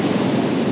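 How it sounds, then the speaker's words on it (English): Ocean surf at high tide surging up a beach toward an eroded drop-off, a steady broadband wash of breaking waves mixed with wind noise, continuous and fairly loud throughout the short stretch. "the tide's really high, so the waves are still coming right up to where it drops off"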